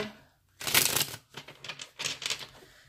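A burst of crisp riffling as tarot cards are shuffled close by, followed by softer rapid flicks and taps of cards being handled.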